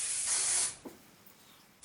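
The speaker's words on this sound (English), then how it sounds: "you're going to spray it at the root" A can of dry shampoo gives one steady, close hiss of spray at the hair roots lasting under a second, then a soft clatter and quiet room tone.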